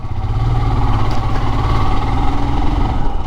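A 2021 Royal Enfield Himalayan BS6 motorcycle engine idles close by, a steady low-pitched rumble with an even, continuous throb and no voices throughout.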